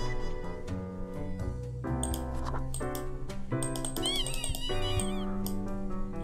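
A cat meows in the video game Death and Taxes, short meows rising over steady, loud in-game music that plays throughout.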